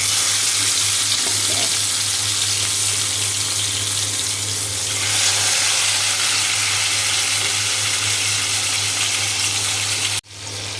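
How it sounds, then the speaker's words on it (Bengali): Fish marinated with salt, cumin, garlic, ginger and lemon frying in mustard oil, a loud continuous sizzle with a low steady hum beneath, broken by a brief sharp interruption near the end. "তো এখানে মাছ ভাজি এক পাশ হয়ে গিয়েছে, আমি আর এক পাশ উল্টিয়ে দিয়েছি"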